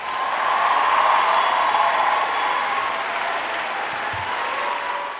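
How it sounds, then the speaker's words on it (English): A round of applause from a crowd, dense continuous clapping that stays loud and even for about five seconds before easing slightly. "Guys, once again, give this cop a round of applause."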